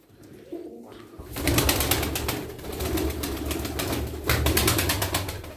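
A marked female Çorum çıplağı tumbler pigeon, with loud rapid wing flapping in bursts near the microphone and soft coos between them, no talk.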